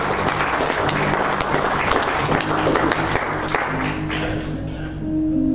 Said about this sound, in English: Y'all give the Lord a hand clap.